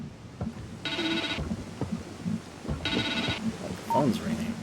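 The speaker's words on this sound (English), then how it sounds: "Phone's ringing." In The Evil Within 2, a telephone in a mental hospital rings twice in clear, evenly spaced electronic trills over a murky ambient background, with brief sounds in between.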